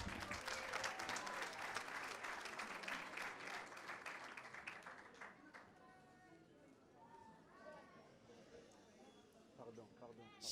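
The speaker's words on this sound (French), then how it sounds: "Je vous demanderai de l'accueillir dans le silence, sous les applaudissements, s'il vous plaît." Audience applause fills a graduation ceremony at Collège Boréal, loud and dense at first, then thinning into scattered claps as a voice begins speaking over the fading clapping.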